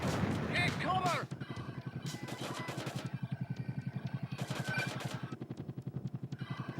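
Soviet Strike on the Sega Saturn, with a rapid, steady burst of game gunfire rattling over engine rumble after a loud blast, and someone speaking briefly at the start.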